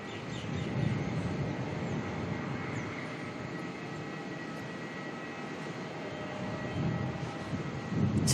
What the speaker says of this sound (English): The 320 Neo inbound from Queenstown.